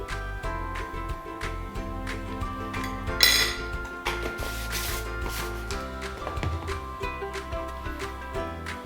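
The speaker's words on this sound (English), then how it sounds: "Go ahead and stir it until it's well combined." A utensil stirs coconut milk mixed with cornstarch in a pot, giving repeated metallic clinks and scrapes against the pot over background music.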